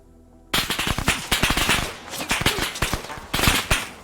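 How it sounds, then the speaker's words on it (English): Machine gun fire in a war video game rattles out in quick, sharp bursts of many shots, loud and close, with a brief lull before a final volley. "They dished out some MG fire."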